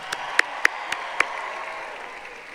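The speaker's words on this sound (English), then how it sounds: "Let's give them a round of applause." Sparse, scattered hand claps from an audience at a concert at the Watsco Center, University of Miami, a handful of distinct claps over a steady crowd hum.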